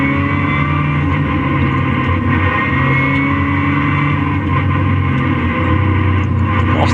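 Racing cars drone past at Donington circuit under a safety car and yellow flag, giving a continuous loud engine roar with no clear individual pass-bys.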